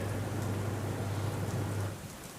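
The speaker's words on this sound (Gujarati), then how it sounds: "પાલનપુરમાં વરસાદે વહેલી સવારથી જ શરૂઆત કરી છે." Heavy early-morning rain pours down in Palanpur, Banaskantha, as a dense, continuous roar of falling water with a low steady hum beneath, easing slightly near the end.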